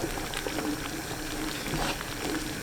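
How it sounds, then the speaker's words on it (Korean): Grated sweet potato porridge boils on high heat in a pot, a close, continuous thick bubbling and popping that keeps up without pause. "간 고구마를 센 불로 끓입니다. 저어가면서 끓여야 바닥에 눌어붙지 않아요."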